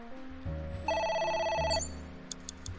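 A phone ringing in the video game AI: The Somnium Files, a single electronic trilling ring tone burst over a low background music bed, close and clear.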